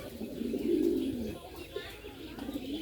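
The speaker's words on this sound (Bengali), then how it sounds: "এখন তো ডিম দিবে আবার, এই কারণে ডাকাডাকি করতেছে বোম্বাই কবুতরে।" A Bombay pigeon gives a single low, throaty coo phrase at moderate distance ahead of egg laying, followed by faint ambient noise.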